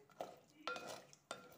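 A spoon stirs narthangai sweet pickle with water in a cooking pot, making three soft scraping strokes, faint and evenly spaced, with no talking.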